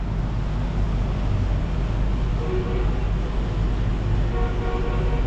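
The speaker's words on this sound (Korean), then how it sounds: "아유 화물차들 빵빵거리기는" Loud, dense street traffic in Ho Chi Minh City with a heavy low rumble of engines, cargo trucks among them, and faint horn toots mixed into the constant roar.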